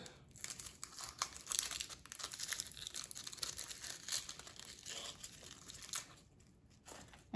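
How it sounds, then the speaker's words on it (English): Papery outer skin being peeled off an onion half, a quiet close-up run of crinkling and light tearing crackles in irregular bursts, alone with no talk. "And now I will take off the peel"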